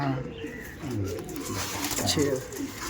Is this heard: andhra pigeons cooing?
yes